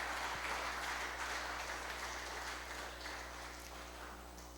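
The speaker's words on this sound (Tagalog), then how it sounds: "Pwede po ba nating bigyan ng palakpak ang Diyos?" A church congregation claps in praise of God during a Filipino worship service, a broad, steady wash of many hands that fades slightly toward the end over a low, constant hum.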